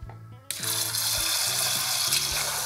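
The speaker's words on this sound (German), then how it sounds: "Gebe dann Wasser drauf und dann Deckel drauf." Water pours from a tap into a cooking pot of rinsed lentils and bay leaves, starting abruptly after a quiet moment and continuing as a steady close splashing rush.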